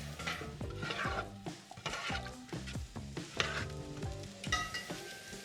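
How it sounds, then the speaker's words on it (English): Pork frying in oil in a pan, with a steady crackling sizzle and frequent stirring and scraping throughout, loud and close, with no talking. "Got just enough oil in there for the pork and stuff."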